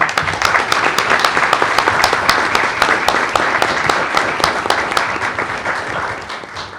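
An audience at a school board meeting breaks into steady, fairly loud applause lasting several seconds, the many hands clapping densely before tapering slightly at the end.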